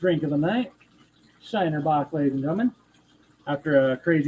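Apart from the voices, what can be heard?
No everyday noise stands out behind the speech.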